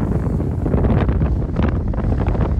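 Strong wind roars and buffets the microphone aboard a boat, a continuous loud blustery rush with no voices heard.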